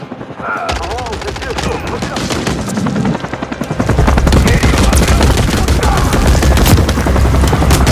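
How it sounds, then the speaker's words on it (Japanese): Helicopter in Call of Duty Modern Warfare III, a loud rapid rotor chop that grows heavier midway, mixed with bursts of gunfire and battle noise. "チャーリーがヘリに対処するはずだったのに"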